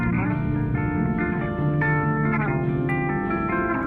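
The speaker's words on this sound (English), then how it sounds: "Now we got an echo, a delayed guitar part that's repeating" A delayed guitar part repeats as an echo about a bar behind, layered over sustained, reverb-soaked chords in a steady, dense band mix.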